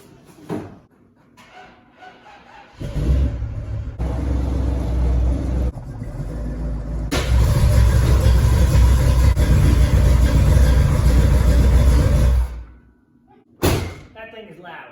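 A G-body El Camino runs through a newly fitted 2.5-inch over-axle side exit exhaust with Flowmaster Super 44 mufflers. The engine rumbles loudly in long, steady revving bursts, with thumps and brief gaps before and after.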